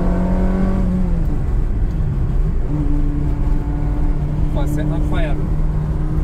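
A Ferrari 360 Modena engine droning from inside the car while driving, its tone sliding through gear changes and rising under speech from the occupants.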